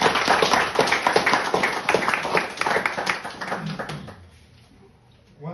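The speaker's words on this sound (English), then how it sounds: "Let's give our administrator a round of applause." An audience at a local government swearing-in ceremony gives a round of applause for the administrator, with steady, fairly close clapping that tapers off into quiet.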